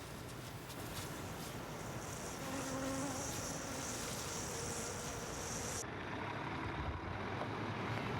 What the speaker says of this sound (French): les 50 millions d'abeilles transportées pourraient devenir une véritable bombe roulante